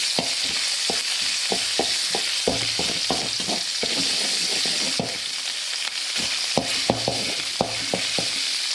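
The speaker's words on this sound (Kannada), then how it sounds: "ಜಿಂಜರ್ ಗಾರ್ಲಿಕ್ ಪೇಸ್ಟ್ ಹಾಕೋತಾ ಇದ್ದೀನಿ." Ginger garlic paste fries in a pan for a Chinese veg ball manchurian, giving a continuous loud sizzle broken by repeated scraping, stirring strokes.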